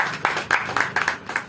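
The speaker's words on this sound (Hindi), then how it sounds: "एक बार अपने लिए जोरदार ताली।" Short burst of applause from a small audience at a weekly company products meeting, with several separate clap accents rising and falling across about a second and a half, moderately loud.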